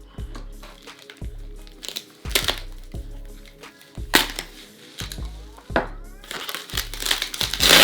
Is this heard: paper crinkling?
yes